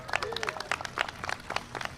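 An audience at an outdoor ribbon cutting ceremony for a Logan Square street redesign claps in a brief, moderate burst of scattered applause.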